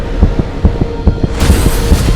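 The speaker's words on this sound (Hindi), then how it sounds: "पापा के दिल की धड़कनें इतनी तेज" A rapid, abnormally fast heartbeat, like a mechanical pulse, thumps in steady low throbs about every 0.4 seconds, close and prominent over a faint hum.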